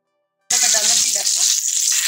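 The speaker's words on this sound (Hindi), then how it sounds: "लहसुन और हरी मिर्ची, इसको हम अच्छे तरीके से फ्राई करेंगे" Garlic and green chili frying in butter with a little oil in a frying pan, a steady close sizzle starting abruptly after a brief silence and continuing unbroken to the end.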